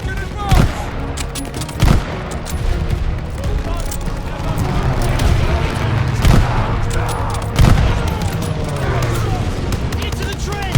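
Heavy gunfire rattles through a Call of Duty: Vanguard trench battle with infantry and tanks, loud, sharp reports at irregular intervals over a constant roar of shooting, with shouted voices mixed in.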